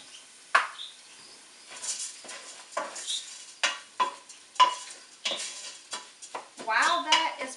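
Rice browning with Vidalia onions in a pan, heard as repeated close spoon strokes that scrape and clack against the pan in an uneven rhythm over a quiet sizzle.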